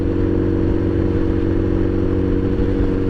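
Honda CBR 1000RR motorcycle engine idling with a broken-off exhaust: a loud, steady, throbbing low rumble with constant mechanical clatter, close by and unbroken.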